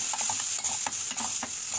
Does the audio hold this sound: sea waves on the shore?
no